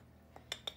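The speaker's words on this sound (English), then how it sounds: "I'm just going to stir that around" Flour, baking powder and salt stirred in a bowl for red currant yogurt muffins, heard as a faint scrape followed by two light clinks of a utensil against the bowl.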